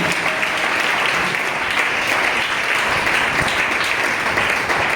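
A congregation claps during a French and Yoruba church service, loud dense applause that holds throughout with some voices mixed into the crowd noise.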